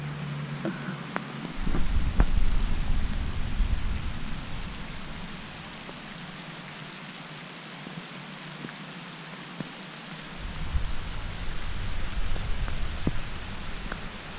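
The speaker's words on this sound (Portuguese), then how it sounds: "Tava querendo fugir da chuva já" Rain falls steadily at a roadside stop on a motorcycle trip in Nova Veneza, Santa Catarina, a broad hiss with scattered drop ticks, swelling and easing slightly over time, with no talk.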